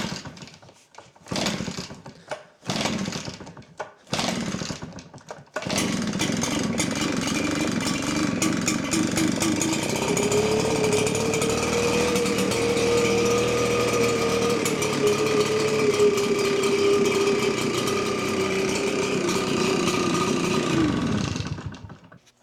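A cheap backpack leaf blower's small two-stroke engine, with a few sharp pull-start attempts, then it catches and runs loudly and steadily, revving up with a rising whine before cutting out abruptly.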